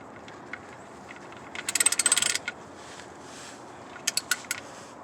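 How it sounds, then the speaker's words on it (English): A ratchet clicks in a quick burst of about a dozen strokes, then a few more clicks, as the oil drain plug on a 2007 Honda Fit is tightened onto its crush washer, close and fairly quiet. "And then you just tighten it until the crush washer begins to crush."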